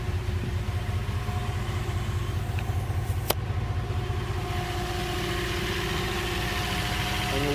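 A Sanden onboard air compressor runs on an off-road rig built on an Isuzu Rodeo rear axle and Grand Wagoneer front axle, giving a steady close mechanical drone with rapid pulsing throughout, alongside an idling engine.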